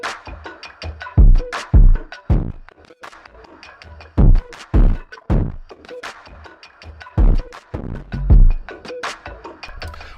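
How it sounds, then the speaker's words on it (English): Music processed with the McDSP chop effect, which cuts portions out of the waveform, giving choppy bursts of sound with abrupt gaps and hard rhythmic stops. "if you want to take some portion of the waveform and just chop it out"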